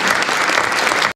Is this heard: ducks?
no